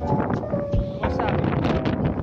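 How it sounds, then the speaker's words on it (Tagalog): Strong wind gusts across a hiking trail at Gibon in Nabas, Aklan, roaring broadband against the microphone with rustling, while people talk over it. "Lakas yung hangin."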